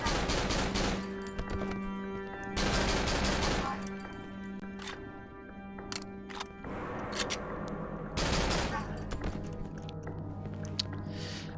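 Bursts of rapid automatic gunfire in the horror game Cry of Fear, loud close volleys broken by short pauses and single shots.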